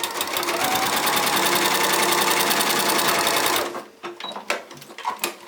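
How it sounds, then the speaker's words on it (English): A sewing machine runs steadily at speed, stitching the layers of a fabric book along a quarter-inch seam, then stops after about three and a half seconds, followed by a few soft handling clicks and taps. "So I'm gonna sew all the way around here in a 1/4 inch seam."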